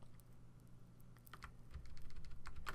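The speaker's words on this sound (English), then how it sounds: "use the cursor keys, the arrow keys on your keyboard, and just move that ellipse over" Scattered keystrokes on a computer keyboard, as arrow keys are pressed to nudge a shape in Photoshop Elements: a handful of faint, irregular clicks over a low steady hum, with no talking.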